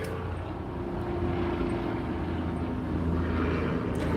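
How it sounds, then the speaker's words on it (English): A helicopter flies beneath the clouds, its steady low engine and rotor drone holding at an even, moderately loud level throughout without fading. "It's a helicopter."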